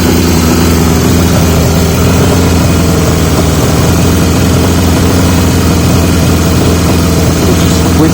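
A 1980 Yamaha XJ650 motorcycle fitted with new (old) exhaust pipes idles loudly and steadily up close, a continuous deep rumbling drone with no talk.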